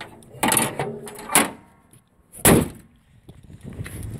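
The hood of a 1992 Chevrolet S10 mini truck is handled and shut, giving a few sharp metallic clanks and thuds, with the loudest slam near the end.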